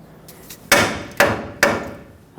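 A hammer strikes the steering knuckle of a 2011-2016 Ford F-350 to break a tie rod free: a couple of lighter taps, then three sharp metallic blows on heavy metal, evenly spaced, each with a brief ringing decay.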